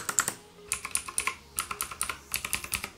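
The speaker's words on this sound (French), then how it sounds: "On a un vrai clavier mécanique ici, ça s'entend dès qu'on l'utilise." Clicky keys of a budget Aukey gaming mechanical keyboard are tapped in quick bursts with short pauses between them, close up and crisp, with no voices.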